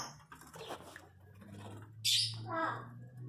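Parakeets and cockatiels kept in a colony aviary chirp in quick, close tweets, a loud burst of sharp calls rising above steady background hum and scattered rustling.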